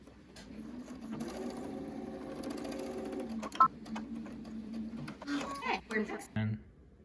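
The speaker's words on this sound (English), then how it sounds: "we're going to sew halfway down towards the corner and stop halfway" A sewing machine stitches a fabric face mask, its steady motor whir and rapid needle chatter running for several seconds before stopping, with a person talking over it.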